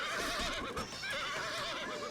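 Horses whinny repeatedly in a Shogun Total War battle, their wavering cries rising over a constant, dense din of battle noise.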